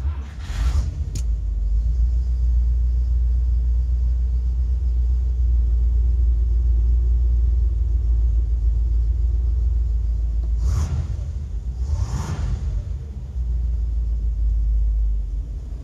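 A 1960 Buick Invicta convertible's engine starts and settles into a low, steady idle rumble close by, with a few short louder bursts near the start and again toward the end.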